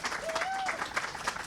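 An audience at a health center building dedication applauds briefly, a dense patter of clapping with a faint whistle-like tone rising over it.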